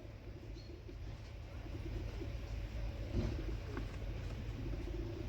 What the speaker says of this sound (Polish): Teraz tak po jednej minucie Wam nagrywam te gołębie